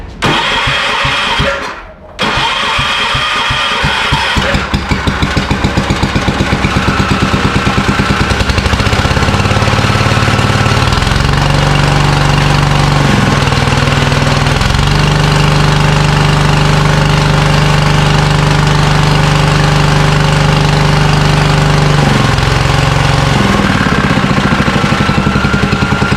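A Massey Ferguson 1650 tractor engine cranks, catches after a brief pause, and keeps running loud and close with a steady, slightly knocking diesel idle that varies a little over the minutes.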